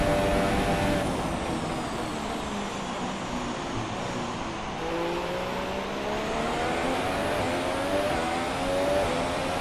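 Race car engines roar in F1 2017 at the China circuit, a loud, continuous high-revving drone with rising and falling pitch as cars accelerate and shift, no voices over it.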